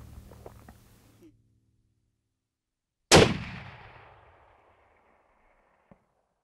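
A single loud rifle shot on a hunting safari, with a sharp crack followed by a long rolling echo that fades over about a second and a half after quiet murmurs, then silence.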